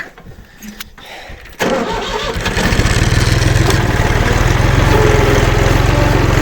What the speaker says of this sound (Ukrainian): заводим трактор